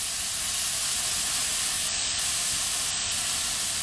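Steak searing in a pan gives off a constant, dense, bright sizzle that holds at a steady level without pause, close and fairly loud.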